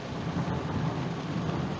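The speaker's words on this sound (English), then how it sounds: "See if we can hear thunder this time." Thunder from an approaching multicell thunderstorm over Ballymena, heard as a continuous low rumbling roll over a steady wash of rain-like noise, with no voices.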